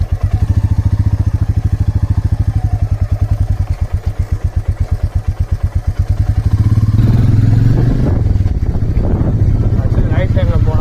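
A motorcycle ridden on a Sunday road trip toward a broken bridge, its engine thumping in a steady rapid pulse close to the mic, then swelling into a louder, rougher roar as it accelerates.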